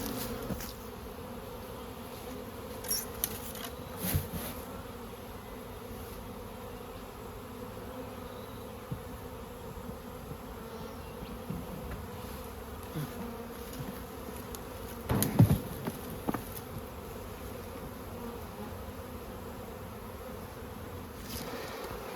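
Bees buzz steadily around a heavy beehive being moved between rails at dusk, a continuous close drone with a few louder thumps and handling bumps along the way, with no talking.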